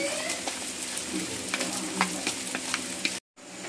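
Onions frying in oil until reddish-brown, a dense close sizzle with crackles and light stirring scrapes, broken by a brief silent gap near the end before the sizzle resumes.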